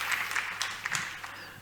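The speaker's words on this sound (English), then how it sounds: "Let's give a big round of applause to Alastair from the Blockchain and Climate." A conference audience at a climate change summit gives a short burst of applause for a speaker, with scattered individual claps over a low hum, thinning out within a second and a half.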